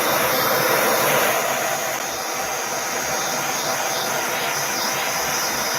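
A heat gun blows continuously and loudly while softening jewelry pieces, a steady airy hiss and whir that runs unbroken and close throughout.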